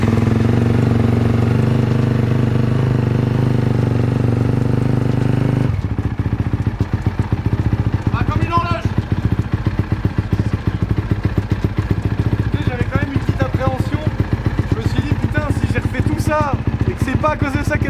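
A Honda CRF dirt bike running on choke, its engine loud and close, idles with a steady rumble that turns to a rougher, pulsing idle partway through while someone talks over it.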